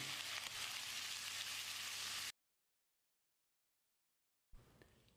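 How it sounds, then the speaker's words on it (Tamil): Loud crackling sizzle of chicken frying in a hot pan for a couple of seconds, then silence, then a brief fainter return of the sizzle. "இப்போ நம்ம க்ளீன் பண்ணி வச்சுருக்கிற சிக்கனை சேர்த்து ஒரு 2-3 நிமிஷம் நல்லா ஃப்ரை பண்ணி விடணும்"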